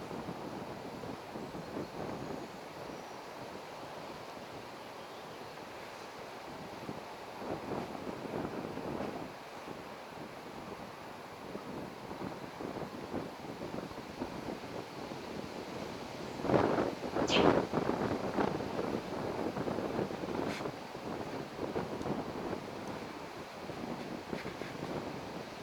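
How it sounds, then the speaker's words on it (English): Wind blowing outdoors at the Dayton Hamvention, a continuous rushing buffet of gusts against the microphone, steady and moderate with a stronger surge partway through and no voices. "The wind is actually blowing"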